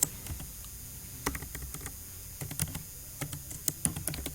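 Keys tapped on a computer keyboard while entering a clear all command in MATLAB, a quiet run of irregular, close clicks with short pauses between bursts.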